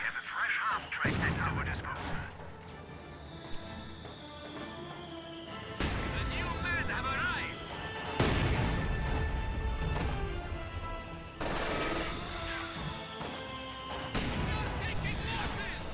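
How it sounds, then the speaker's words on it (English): Mortar shells from a WWII strategy video game slam down in repeated heavy blasts with crashing debris, loud and close. A commentator talks over the bombardment throughout. "Mortars bombarding the conscripts over here."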